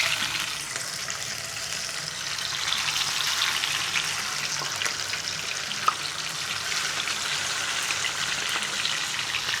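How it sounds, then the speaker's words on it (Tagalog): Milkfish (bangus) frying in hot cooking oil, a steady dense sizzle with scattered pops and crackles running throughout, close and continuous with no talking. "Magpaprito naman po tayo ng bangus."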